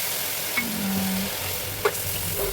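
Spices go into a pan of frying tomatoes for a pure vegetarian dish, a steady soft sizzle with a couple of sharp clinks from stirring, close and even.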